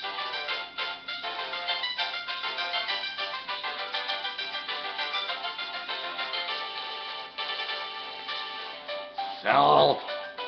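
A cell phone ringtone plays a looping electronic melody for several seconds, fairly loud and continuous, ending with a brief burst of noise near the end.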